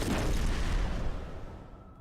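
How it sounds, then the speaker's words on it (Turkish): A deep, booming bomb blast in Hitman: Blood Money rumbles and slowly fades away over about two seconds, heavy and close. "Şu an bir bomba daha patladı."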